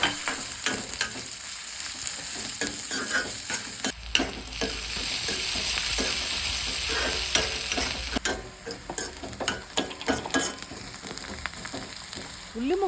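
Chopped onions, green chillies, garlic paste and ginger paste fry in hot oil with a steady close sizzle, broken by repeated spatula scrapes and stirring strokes, with no talking.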